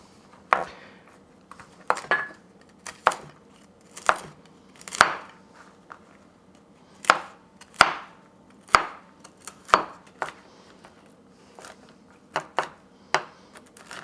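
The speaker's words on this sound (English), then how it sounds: "now it's the time to chop our walnut" Walnuts chopped with a knife on a board, with about a dozen crisp, separate chops in loose clusters and short pauses between them. The sound is close and alone.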